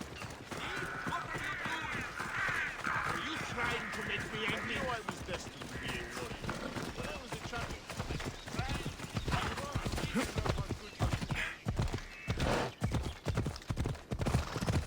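Hooves clip-clop steadily as a horse trots in Assassin's Creed Odyssey, a continuous rhythmic patter that grows sharper and more pronounced toward the end, with talking and game sounds mixed in.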